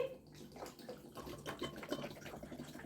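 Water runs and splashes steadily as it is poured into a pot for boiling, a faint continuous trickle with no talking over it.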